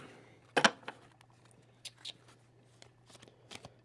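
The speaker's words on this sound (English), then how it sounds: "Try to shuffle them without doing any damage, so very gently." Pokemon trading cards from Diamond and Pearl booster packs, shuffled gently by hand, giving a few soft crisp riffling bursts and light papery flicks, close and fairly quiet over a steady low background hum.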